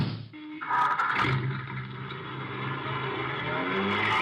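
A car engine starts and pulls away in a live radio detective drama, a steady motor roar rising after a brief thump and holding loud and close for several seconds with no talk.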